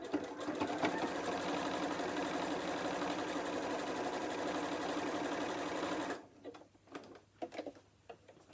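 A sewing machine runs steadily for about six seconds, stitching a fabric seam on a fat-quarter book cover, then stops, leaving only a few soft handling clicks.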